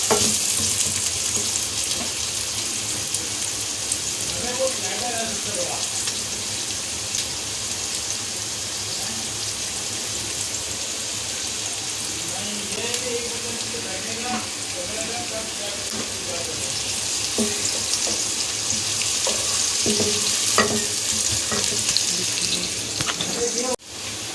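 Chopped onions frying in a pan for a chicken vegetable macaroni, a steady bright sizzle running throughout with occasional stirring clatter and a faint voice in the background.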